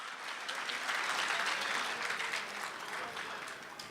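Audience applause at a Hindi-Urdu mushaira and kavi sammelan poetry gathering in Dubai: a dense, steady wash of many hands clapping from a large crowd, sustained evenly throughout without a break.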